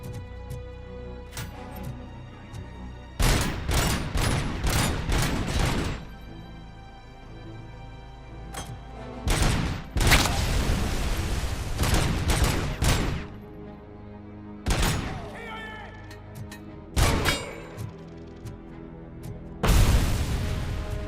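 Grenade explosions and gunfire erupt in RoboCop: Rogue City: loud, booming blasts arrive in repeated clusters separated by quieter gaps, some close together in quick bursts, with the heaviest volleys near the start and middle.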